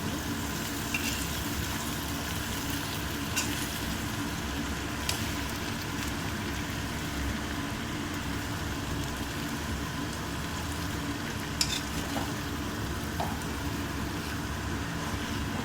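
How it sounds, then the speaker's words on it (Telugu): Potatoes for aloo fry being stirred and fried in masala in a pan, a steady close sizzle with occasional light scraping taps of the spoon. "ఈ ఆలుగడ్డ అంతా వేసేసుకున్నాము. కలిపేసుకున్నాము."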